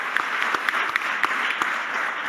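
Audience applause at a Bordeaux civic event, a crowd clapping steadily with a few sharper individual claps standing out near the front.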